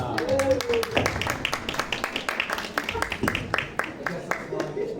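An audience at a fan convention panel claps in a brisk burst of many hands, moderately loud and steady, with a voice briefly heard at the start.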